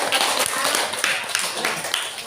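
A class claps for a student group in a classroom session, a short burst of fairly close, mixed hand claps running throughout with no voices standing out.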